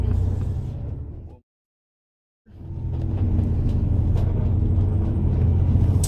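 An MCI coach bus cruises along Highway 90 toward Houston with a loud, steady low road and engine rumble. The drone cuts out for about a second near the start, then returns at full strength and holds steady to the end.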